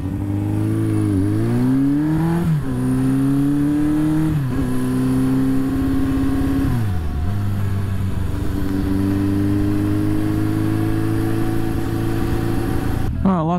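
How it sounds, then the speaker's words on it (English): A Yamaha XJ550 Scrambler motorcycle engine pulls away and runs through the gears, loud and close, its revs climbing in repeated rising surges and then settling into a steady cruising drone. "This engine fires up really fast, idles pretty nice."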